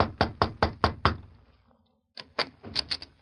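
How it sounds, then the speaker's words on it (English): Knuckles rapping on a hotel room door in an old radio drama: five quick sharp knocks, a pause, then another burst of four or five, close and crisp with no voices. "The two men stopped in front of the room door. The Lone Ranger hesitated a moment, then knocked."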